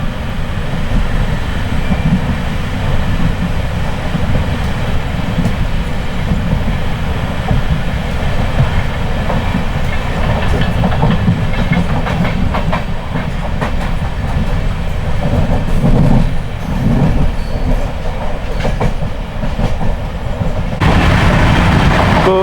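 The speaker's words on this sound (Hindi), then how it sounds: "ताबड़तोड़ रफ्तार में हमारी शान भोपाल एक्सप्रेस बढ़ रही है भोपाल की ओर।" The Shane Bhopal Express, an Indian Railways train, runs at speed toward Bhopal in a loud, continuous roar. Steady rumbling and clattering wheel noise is heard from close by, alone and unbroken, with a brief shift in tone near the end.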